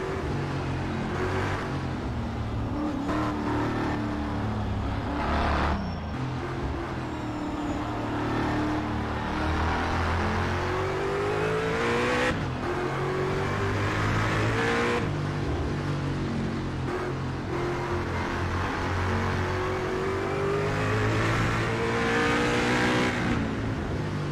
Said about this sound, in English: Also gives us a chance to listen to the beautiful AMC engine.